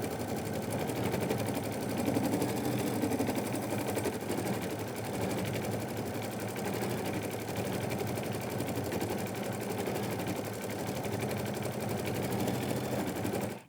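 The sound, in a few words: sewing machine stitching background quilting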